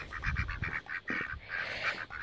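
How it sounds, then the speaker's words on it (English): Ducks and small ducklings approaching, giving a series of close, rapid quacking and honking calls in quick bursts that carry on almost without pause. "But you got little ducks over here and ducklings. And here they come."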